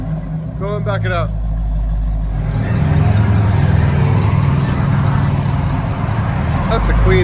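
1973 Ford Mustang Mach 1 V8 with true dual Flowmaster Super 10 exhaust rumbling loudly and steadily as it backs up, a deep continuous drone close by, with brief talk near the start.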